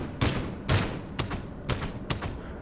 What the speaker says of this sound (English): Now I'll shoot strong 6 bullets.